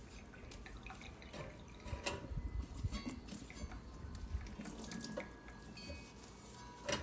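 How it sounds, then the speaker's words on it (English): Meat grinder parts are rinsed under a running kitchen tap, a faint steady stream of water with small splashes and drips as the pieces are handled. "To clean them up, just rinse them."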